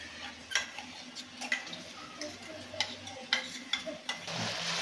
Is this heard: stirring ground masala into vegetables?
yes